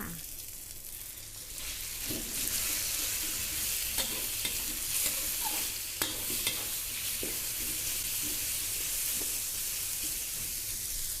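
Pork stir-fried in a wok with shiitake mushrooms and garlic, a steady close sizzle of frying under scattered scraping and clacking from the spatula, no talk.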